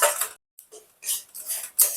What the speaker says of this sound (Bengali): এবার সমস্ত মশলাটাকে আমি ভালো করে কষে নেব।